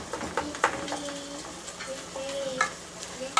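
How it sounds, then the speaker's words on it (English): Ground meat sizzles softly at the bottom of a pot of homemade chili, a steady crackle broken by a few scraping stirs and light clinks, heard close and alone. "all I'm hearing is the meat sizzling at the bottom"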